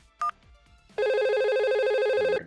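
A simulated VoIP phone in Packet Tracer rings with a steady electronic tone that lasts well over a second, after a brief short beep. It is loud and close, with no talk over it.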